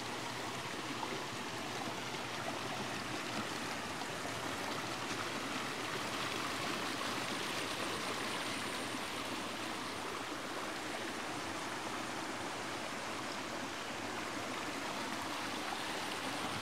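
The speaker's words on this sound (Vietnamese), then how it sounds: "Đây là không phải dòng suối mà là do lũ quét tạo ra dòng suối." Water from a flash flood rushes along a newly carved stream bed, a steady, broad, loud roar of flowing water with no pauses.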